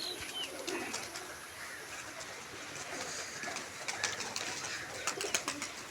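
Pigeons coo softly on a rooftop, a few low, rolling calls rising over quiet background hiss with occasional faint chirps.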